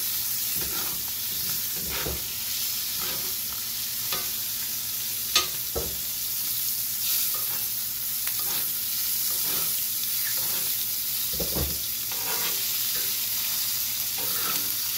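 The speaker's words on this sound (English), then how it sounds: "I'm just going to keep basting it." A steak fries in a pan as it is basted, giving a constant loud sizzle and hiss with soft spoon scrapes and occasional spatters, close up, with no talk.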